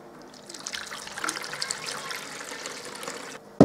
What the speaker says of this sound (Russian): Наливаем воды.